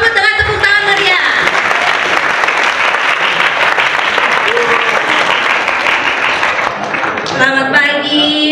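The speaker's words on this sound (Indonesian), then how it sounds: "Kita sambut dengan tepuk tangan meriah" A school audience at a talk show in SMA Negeri 3 Denpasar bursts into loud, sustained applause to welcome the guests, with a host's voice heard briefly at the start and again near the end.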